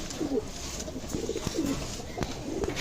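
Pakistani teddy pigeons coo in repeated soft, throaty phrases at a loft, several calls spaced through the moment over a steady background hum, with no talk.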